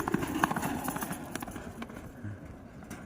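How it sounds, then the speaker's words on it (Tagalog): Hooves of a racehorse galloping during a practice run, a rapid rhythmic clatter at moderate distance over outdoor background noise, with faint voices nearby. "Tagadag, tagadag, ganun talaga tumakbo si Bridgestone. Parang kabayo"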